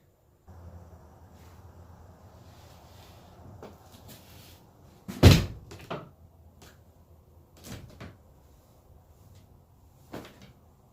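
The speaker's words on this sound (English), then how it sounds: "You close that door right now" A single solid thud of a door being shut lands sharply near the middle, followed by a few softer knocks and bumps in an otherwise quiet room.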